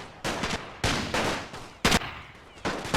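Rifle and machine-gun fire in The Great War: Total War, a WW1 siege assault, crackles in loud repeated bursts and volleys with short gaps, dense and close, with no talk over it.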